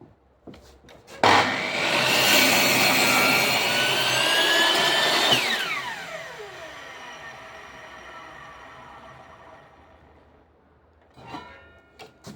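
A loud, steady power saw with a Makita, DeWalt or Metabo blade whines through light wood in a crosscut for about four seconds, then spins down with a falling tone; a brief knock follows near the end.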